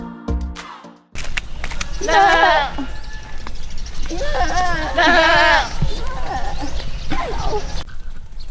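Goats bleat on a small desert island where livestock roam, giving several loud, wavering calls close by in two main bursts after a short sound at the start.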